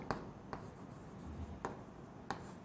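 Chalk or marker taps and scratches on a board during a probability lecture, a few faint, spaced strokes and clicks against a quiet room background.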